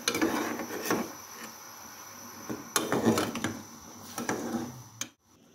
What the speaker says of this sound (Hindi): उसको मैं इस तरह से चम्मच से थोड़ा सा मैं इसको कूट लूँगी